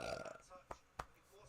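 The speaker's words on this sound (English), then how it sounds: "belched." A belch from a man during a casual live football match reaction, short and close, with speech just before it and a couple of brief sharp mouth sounds after.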